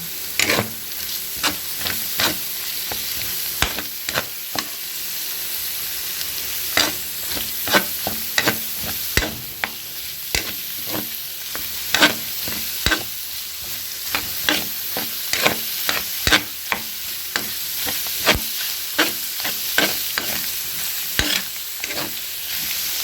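Onion frying in a little oil in a pan, with a loud, constant sizzle and frequent sharp scrapes of a utensil stirring it, close up, no voices.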